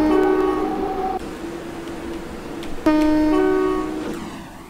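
An Athens metro train in the Roblox video game sounds its horn in two long sustained blasts over a steady rumbling running noise, loud and close, with no talk.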